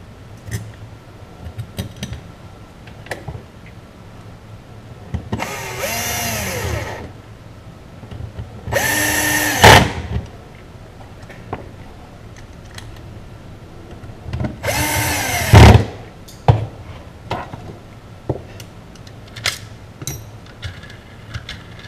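Power drill driving screws to assemble a CartCon1 gearbox, three separate bursts of whirring a couple of seconds each, with quiet handling clicks and taps in between.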